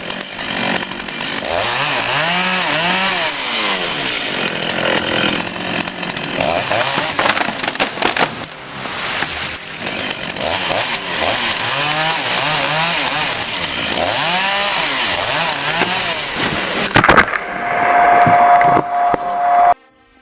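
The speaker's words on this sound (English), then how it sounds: "That saw is biting into a loaded giant" A chainsaw cuts into a large, loaded tree, its engine roaring loudly and rising and falling in pitch as the chain bites, continuous and close for most of the stretch before stopping abruptly.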